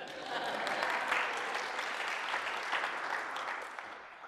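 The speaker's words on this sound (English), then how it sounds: "You can clap." An audience at a presentation claps, a fairly faint, even wash of applause that fades out toward the end.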